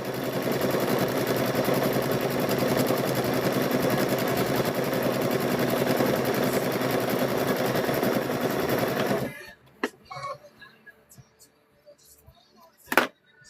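A sewing machine stitching quilt fabric squares runs loud and steady for about nine seconds, then stops, leaving a few faint handling clicks and a sharp knock near the end.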